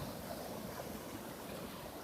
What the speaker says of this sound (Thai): ผมจะให้ท่านดูลักษณะการที่คลื่นพาทรายมาถมจะมาถมลักษณะแบบนี้นะครับ